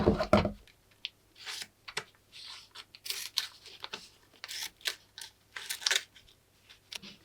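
Small scissor snips through a slice of Heat and Bond fusible web, a series of close, crisp paper-like cuts and rustles spaced irregularly with no talking.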